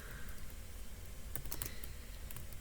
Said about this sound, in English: I'm typing this for all symbol with backslash for all